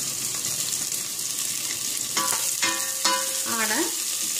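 Chopped onions sautéing in hot oil until golden for a chickpea (channa) biryani sizzle in a steady close hiss, with a few short scraping squeaks of a stirring spoon against the pan and no talking.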